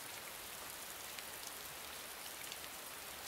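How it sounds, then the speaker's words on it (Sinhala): Heavy rain pours down steadily, a dense, even hiss of drops with no breaks or voices. "එන්න එන්න වැස්ස වැඩි වුණා"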